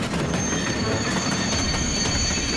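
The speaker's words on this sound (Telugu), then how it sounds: "త్వరగా ట్రైన్ ని స్లో చేయండి" A cartoon train slows down with loud, continuous metallic wheel squeal over a rumbling rail roar, steady and close for the whole stretch, with no talk.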